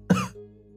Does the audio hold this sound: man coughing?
yes